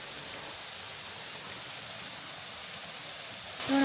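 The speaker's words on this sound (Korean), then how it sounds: "절구폭포의 모습이에요" The Jeolgu waterfall on a volcanic trekking trail pours into a clear pool, heard as a soft, even rush of water with no other sounds. A short tonal blip comes right at the end.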